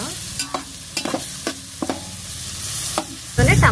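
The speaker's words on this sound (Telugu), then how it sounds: "ఉల్లిపాయ దోరగా వేయిద్దాం దీనిలోనే అల్లం వెల్లుల్లి ముద్ద ఉప్పు" Sliced onions frying in a pan with ginger garlic paste and salt, a steady sizzle broken by repeated sharp clanks and scrapes of a spoon stirring, with a louder burst of sizzling near the end.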